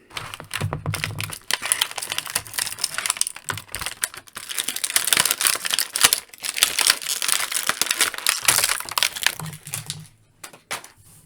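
A War Machine action figure from the Avengers Endgame line is pulled from its packaging, giving a long run of close crinkling plastic and sharp clicking and rustling, with brief low voice fragments at the start and end.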